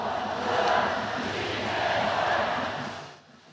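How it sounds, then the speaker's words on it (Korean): A baseball stadium crowd of Lotte fans roars and cheers steadily as a batter steps up, a dense wash of many voices that swells and holds before dropping off near the end. "롯데 팬들의 열렬한 함성 속에 타석에 선 이대호는 기회를 놓치지 않았습니다."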